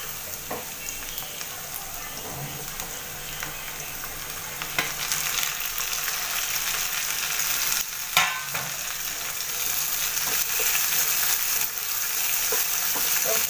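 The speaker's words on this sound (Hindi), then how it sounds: "अभी हम इसमें ये बारीक क्रश हुआ लहसुन डाल देंगे और इसको हल्का सा भून के इसमें टमाटर डाल देंगे।" Finely crushed garlic and tomato fry in a pan for an arbi leaf curry, giving a continuous loud sizzle with occasional light stirring scrapes that grows slightly stronger over time.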